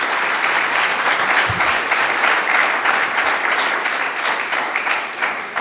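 Sustained applause from an audience in a conference room at a Fedora community event in Cork, dense and steady for several seconds and tapering slightly at the end.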